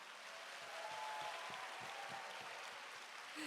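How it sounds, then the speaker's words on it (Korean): An audience at a youth Christian conference gives a round of applause, a steady wash of many hands clapping, fairly distant and even throughout. "여러분 박수 한번 주세요."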